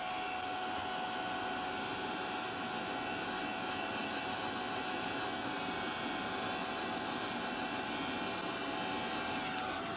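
A heat tool blasting hot air over damp paper flowers, a steady, even whirring blower roar that runs unbroken and fairly loud from start to end with no talk.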